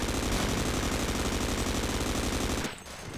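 Heavy, rapid gunfire from a shotgun in Half-Life: Sven Coop, a loud unbroken stream of blasts pounding for nearly three seconds before stopping abruptly into a quieter background.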